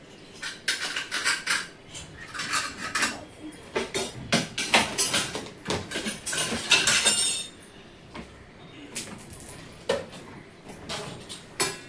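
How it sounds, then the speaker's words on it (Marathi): A knife scrapes and taps against bread and a metal sandwich maker while butter is spread, with irregular close clinks and scraping strokes in bursts and quieter gaps. "तर इथे थोडंसं मी बटर लावून घेते"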